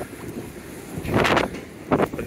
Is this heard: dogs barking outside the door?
no